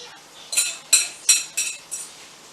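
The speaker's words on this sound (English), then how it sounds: "So we'll get that all whisked up." A whisk clinks against a mixing bowl while beaten eggs are stirred, five sharp metallic taps in a quick, even rhythm, close and clear with no talk.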